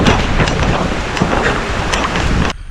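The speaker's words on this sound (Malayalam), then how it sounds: "ഒടുക്കത്തെ മഴ വന്നു" Heavy rain pours in a dense, loud, continuous hiss with wind buffeting the microphone, cutting off abruptly near the end.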